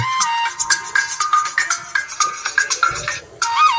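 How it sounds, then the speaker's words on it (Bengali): A bright electronic ringtone melody from a slim keypad button phone, rapid chirping tones repeating in short bursts, loud and close, with a brief pause near the end. "এই ফোনটির যে রিংটোনের সাউন্ড সেটা একটু চেক করে দেখবো"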